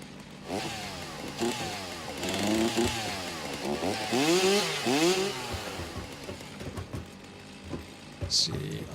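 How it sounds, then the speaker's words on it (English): Chainsaw in Satisfactory, a close buzzing motor whose pitch revs up and down in repeated swooping waves over a low rumble, with a brief high tone near the end. "I do have the chainsaw"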